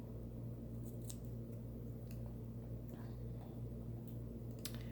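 Small scissors trim paper checklist stickers for a planner page, giving a few soft, quiet snips scattered over a low steady background hum. No one speaks.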